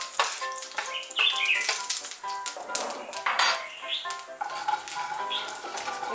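Nigella seeds (kalo jeere) hit hot oil for tempering a Bengali beans dish, crackling and sizzling up close with irregular pops and a few clinks of a utensil against the pan.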